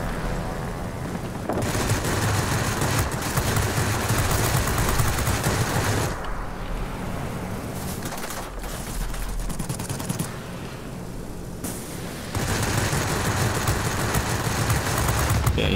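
Aircraft guns in the World of Warplanes combat game fire in long, sustained bursts, loud and close, with brief lulls near the middle before the rattling gunfire resumes, with no voices.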